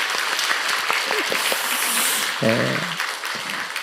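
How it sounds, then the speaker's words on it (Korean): A church congregation claps warmly to welcome new members during a Sunday service, with steady, sustained applause filling the hall while a voice speaks briefly over it. "우리 그분들을 위해서 한번 환영의 박수를 드리겠습니다"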